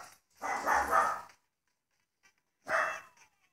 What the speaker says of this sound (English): Sorry guys, if you hear my dogs barking, they are barking.